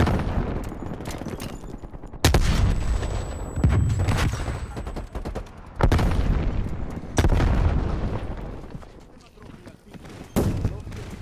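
Explosions and gunfire in Call of Duty: Black Ops Cold War, several heavy booms landing at irregular intervals amid rattling shots, loud and close, with a voice speaking briefly.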